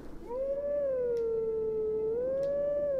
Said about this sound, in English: Supposed to be howling.